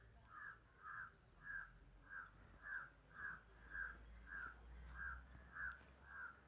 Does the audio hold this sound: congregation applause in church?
no